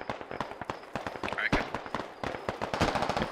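Rapid, dense bursts of gunfire crackle in the tactical shooter game Squad, sharp repeated shots layered with distant firing, running steadily over a few seconds.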